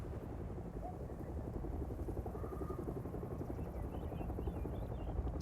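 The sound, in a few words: distant helicopter in the video game Hell Is Us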